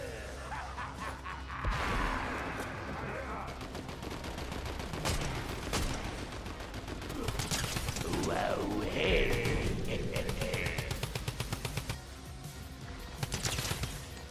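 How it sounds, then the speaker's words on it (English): A drum gun fires in Fortnite in dense, rapid bursts amid loud chaotic game effects and clanks, with a voice talking over the action. "That is peak drum gun gameplay right there."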